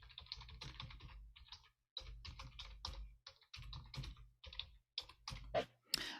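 Brisk typing on a computer keyboard as a web address is entered, a close, quiet run of rapid key clicks in short bursts separated by brief pauses.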